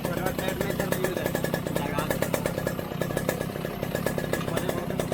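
A Yamaha RX100 two-stroke motorcycle runs after an engine rebuild, its exhaust giving a rapid, crackling, buzzy pulse close by, steady throughout, with voices talking over it.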